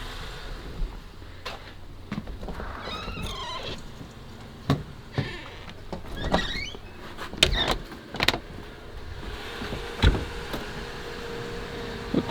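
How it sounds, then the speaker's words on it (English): A car door handled repeatedly, with several sharp clunks and thuds spread across a steady low interior hum, along with a few brief mechanical whirs and rattles. "Let me get the door."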